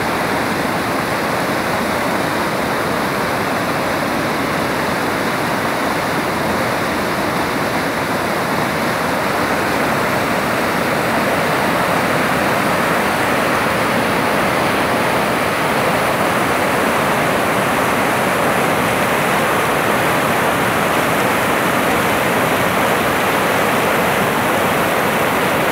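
Water rushing down the spillway of the Jati dam, about 40 centimetres deep, a loud, steady, unbroken roar of falling and flowing water that fills the whole stretch, with no talking.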